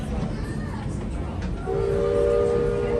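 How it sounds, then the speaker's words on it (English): A Magic Kingdom park train sounds a steady, sustained whistle over a rumbling crowd and ride noise that fills the whole stretch, the whistle tone entering partway through and holding loud to the end. "That's the train."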